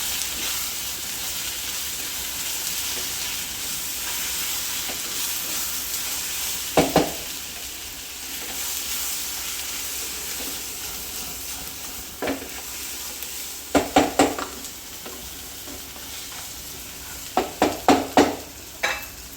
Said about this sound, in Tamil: மசாலா போட்டு நல்லா மிக்ஸ் பண்ணுங்கள்